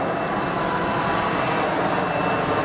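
An aircraft engine starting up at Geneva Airport gives a steady, loud whooshing roar with a faint high whine, continuous throughout with no talk.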